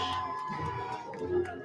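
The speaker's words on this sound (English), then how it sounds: "So the crowd is roaring." A football crowd on a Friday night in Eufaula cheers as the Lakeside Chiefs race onto the field, a faint, distant wash of shouting and whoops with scattered sharper cries.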